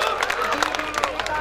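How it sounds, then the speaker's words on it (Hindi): Audience at a poetry recital and mushaira applauding loudly, a dense continuous wash of many hands clapping with crowd noise mixed in, sustained throughout. "तालियां जोरदार आनी चाहिए"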